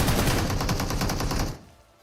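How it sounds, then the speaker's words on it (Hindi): Rapid automatic gunfire from a battle royale video game rattles in a dense, fast burst for about a second and a half, then drops away to quieter background noise. "गन साउंड तो आप लोग सुन ही सकते हो"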